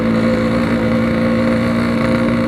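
Yamaha RX King two-stroke motorcycle fitted with a power pack exhaust, idling or held at steady revs close by, a loud continuous buzzing drone with no talking.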